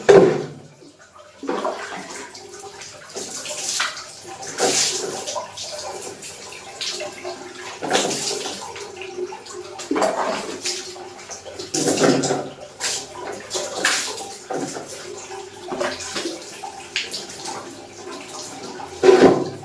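Water poured over the body during a bath, repeated splashing gushes coming in bursts every couple of seconds, close and fairly loud, with quiet gaps between.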